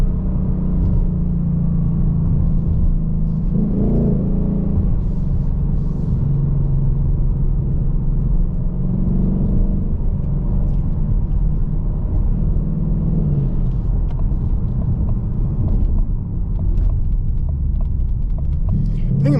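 A 2023 Ford Mustang GT Premium, California Special, accelerating hard through its 10-speed automatic, a steady loud engine drone heard from inside with rising and dropping pitch at each gear change, continuous throughout.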